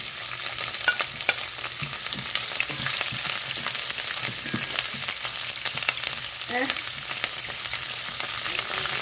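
Onions frying in a pan for Filipino pork pastel, a steady broadband sizzle with scattered stirring scrapes and clicks, close and continuous, with no talking.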